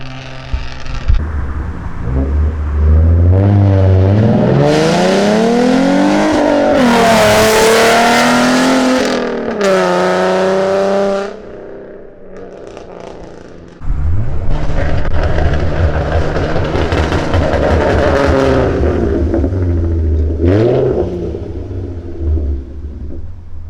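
A V6 Ford Mustang engine revs hard and loud nearby, rising and falling in pitch through several pulls, then drops to a rough idle before revving again.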